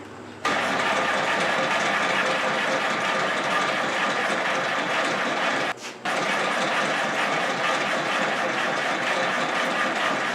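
Engine of a 1945 Willys MB cranking over after gas is poured in, a loud continuous mechanical churning with a brief break midway before it resumes, heard close up with no talking.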